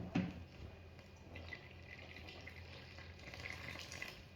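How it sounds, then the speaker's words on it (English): Warm water is poured into a bowl over egg and vegetable oil for meat pie pastry dough, a quiet, continuous trickle heard close and alone. "I need to add 1 cup of warm water,"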